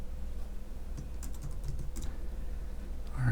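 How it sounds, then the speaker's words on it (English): Fingers tap at a computer keyboard in a quick, irregular burst of keystrokes, close by and fairly quiet, with no talking. "I'm trying to type around my microphone right now."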